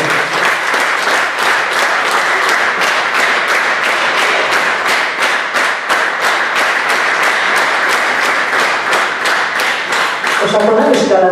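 Audience at an operetta gala applauding an award-winning performer, sustained loud rhythmic clapping filling the hall, with a voice starting to speak as it ends.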